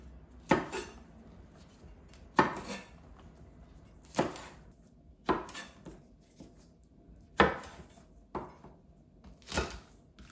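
A knife roughly chopping Cheongyang chili peppers on a board, about nine sharp separate thuds at uneven intervals, close and clear with quiet gaps between strokes.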